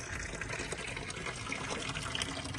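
Water pours steadily onto a potted plant, a continuous close splashing gush for a few seconds, with no clear talking.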